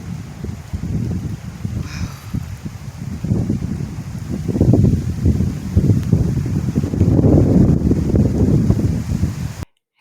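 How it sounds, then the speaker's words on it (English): Strong wind gusting outdoors in a garden, a steady low roar and buffeting against the microphone that swells louder through the second half, with no talking. "Look how the wind blowing."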